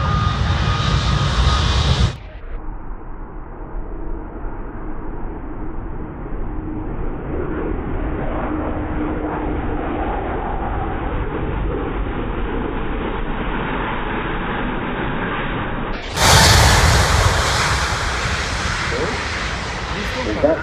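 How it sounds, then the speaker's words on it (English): An Airbus A380 airliner takes off at the Farnborough air display, its jet engines a loud, sustained roar that drops to a distant rumble before surging back up close. A commentator talks over it throughout. "This beautiful, beautiful, large airliner from the Airbus, the Airbus"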